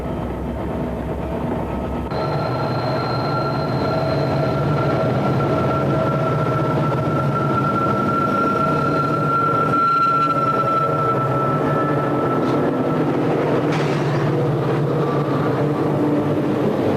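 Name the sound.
Norfolk & Western and Southern diesel train section thundering through cut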